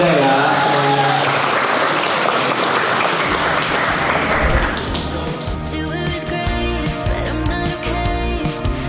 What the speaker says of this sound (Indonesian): Buat tepuk tangan buat Kak Almida ya semuanya.